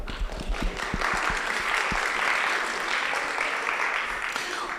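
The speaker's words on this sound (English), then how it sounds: "Wow, round of applause, I think, for that one." A church congregation breaks into a round of applause, a dense, steady wash of clapping sustained throughout, with a few low thumps and bumps near the start.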